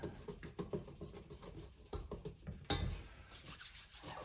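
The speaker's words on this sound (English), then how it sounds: "I'm going to grab a whisk here just to kind of whisk those two together" Whisking whole wheat flour and another dry ingredient together in a bowl, a quiet, rhythmic series of scraping, rubbing strokes from a whisk at close range, with one slightly louder scrape near the end.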